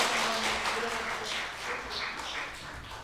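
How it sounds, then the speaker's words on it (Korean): A congregation applauds during a Korean Presbyterian Sunday church service, with steady, moderately loud clapping from many hands sustained for several seconds. "다시 한번 소개하면서 우리 박수 한번 하겠습니다."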